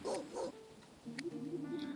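A dog in the WrestleQuest video game gives two quick barks, then a brief whimpering yip, close and clear.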